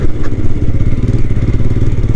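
Royal Enfield Scram 411 motorcycle cruising in second gear over a bumpy road of stones and sand, a steady close low engine thrum with rattling clatter, continuous and loud with no talk.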